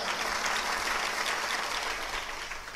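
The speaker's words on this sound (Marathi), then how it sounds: "जोरदार टाळ्या वाजवा" An audience at a Shiv Mahapuran religious discourse gathering in a Maharashtra village claps loudly together, dense sustained applause filling the space and easing off slightly toward the end.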